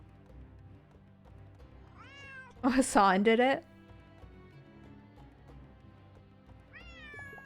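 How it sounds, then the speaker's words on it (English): A cat meows in the Nancy Drew game Lights, Camera, Curses!, one loud drawn-out meow in the middle, with softer rising cries at the start and end over quiet background music, while a voice speaks briefly. "There's that cat again."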